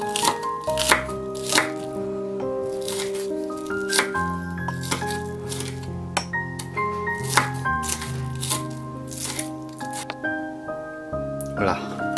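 A sharp knife chops onions on a board in a string of crisp irregular cuts, heard under a voice speaking French throughout.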